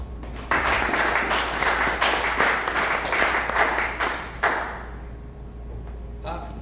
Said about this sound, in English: welcoming round of applause